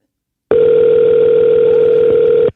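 A telephone ringback tone plays loud and close through a phone on speakerphone. A single steady buzzing tone lasts about two seconds, then stops abruptly.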